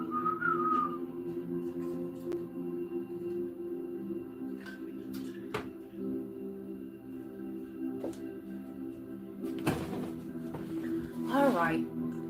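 A person whistles a short melodic phrase near the end, rising and falling, heard over a steady background hum with talk-like sounds earlier.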